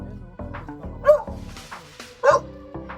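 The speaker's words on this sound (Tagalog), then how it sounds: "daming aso dito" Several dogs bark in sharp bursts nearby, with two louder barks standing out over a busy background of other yaps and faint talking.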